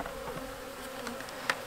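Honey bees buzzing in a nuc hive, a dense steady hum close up with a few individual bees flaring louder for a moment, no voices.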